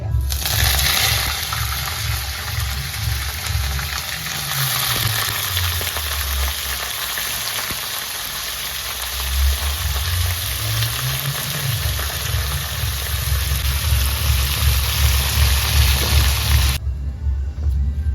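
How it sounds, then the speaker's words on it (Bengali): Chicken frying in oil in a wok, Nepali style, with a steady close sizzle and intermittent stirring scrapes and low clatter throughout, no talking. "মাংসটা আগে কড়াইতে ভালো করে ভুজে নেওয়া হয় মানে ভেজে নেওয়া হয়"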